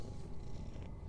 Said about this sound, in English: I can pet the cat.